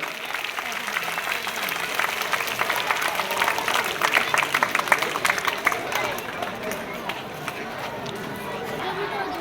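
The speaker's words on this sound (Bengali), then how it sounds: "করতালি হবে প্লিজ করতালি" A crowd at an outdoor bag distribution event applauds in a steady, dense patter that holds at an even level throughout, with faint babble mixed underneath.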